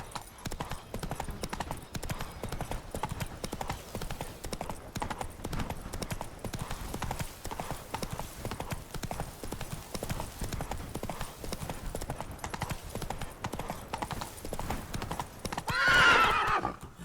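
Hooves clip-clop in a steady galloping rhythm through most of a Witcher 3 video game scene, with a loud horse neigh near the end.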